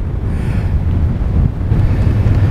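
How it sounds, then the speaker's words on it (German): Very strong wind buffets the microphone on top of the Marsk Tower observation tower, a loud, continuous low roar with gusty rumble throughout and no speech. "Es ist sehr, sehr starker Wind hier oben."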